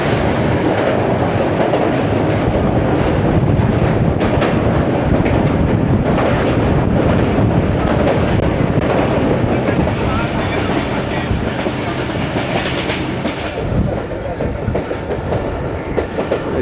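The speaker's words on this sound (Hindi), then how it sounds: "दोस्तों ट्रेन अभी हमारी पास होगी कैमल लेक के ऊपर से।" The Babu Passenger train crosses a bridge over a lake on an early morning run in heavy rain. A loud, continuous rumble of wheels and rhythmic clickety-clack carries throughout, heard from aboard the train.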